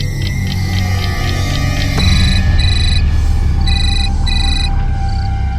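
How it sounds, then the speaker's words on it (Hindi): Outgoing phone call ringing in a quiet room at night: repeated electronic ringback tones in short paired bursts, steady and fairly close, with no talking. "सीमा को फोन करती हूँ।"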